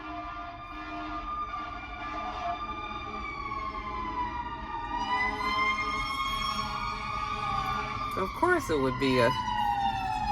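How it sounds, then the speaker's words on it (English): Three fire trucks pass by with sirens wailing. A steady rising and falling siren tone grows louder as they approach, and a horn blasts near the end. A person talks over it. "3 fire trucks driving by."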